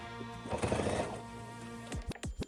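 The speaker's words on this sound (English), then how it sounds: "Using just a straight stitch, so I'm starting right on this little slit on the dough part, and I'm going to backstitch" A sewing machine runs a straight stitch on a fabric donut-shaped dog toy, a short burst of steady mechanical whirring, followed by a few brief separate stitches as it backstitches, close and moderately quiet.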